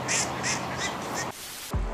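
Ducks quack repeatedly at a city pond in Krasnodar, a rhythmic run of nasal calls close by over steady outdoor ambience, ending with a soft thump.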